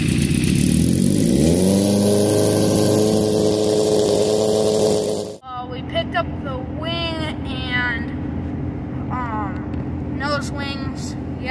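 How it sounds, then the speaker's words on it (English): A race car engine fires up for the first time and revs loudly, pitch climbing early then holding a steady drone before cutting off abruptly; a voice then talks over quieter background noise. "I started up the car for the first time."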